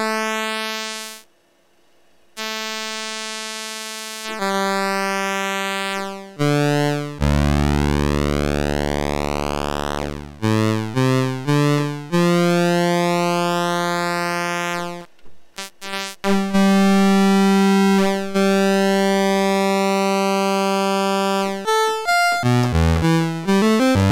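An ARP 2600 synthesizer oscillator with its pulse width being modulated, producing a loud buzzy tone whose timbre sweeps and shifts in steps, with brief drops to silence and changing pitches, no talking.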